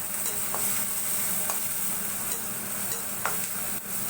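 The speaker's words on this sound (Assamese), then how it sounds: "লৰাই এতিয়া পিঁয়াজখিনি অলপ অলপকৈ জ্বলা আৰম্ভ কৰিছে" Onions frying in a pan with salt, turmeric and chilli are stirred, a steady close sizzle broken by several distinct scraping strokes of the spoon against the pan.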